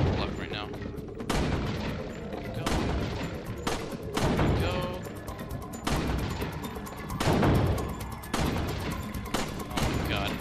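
Repeated gunfire at the shooting range in Resident Evil 4, with sharp shots landing in quick clusters amid a busy game soundtrack, loud and close throughout the run.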